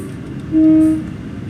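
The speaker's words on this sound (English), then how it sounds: "the brakes on this train are pretty good" Lumo Class 803 train in Train Simulator 2022 sounds a short, steady horn blast over a low, constant rolling rumble.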